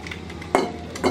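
Spatula scraping and tapping in a pan while pushing frying eggs aside for an egg chochchori, two short clinks over a low sizzle.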